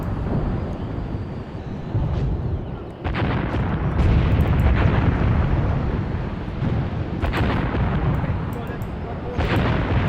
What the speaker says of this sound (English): But with those tanks firing at us, I'm not sure how much longer we have left.